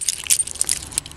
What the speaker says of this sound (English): The car comes with 2 remote keys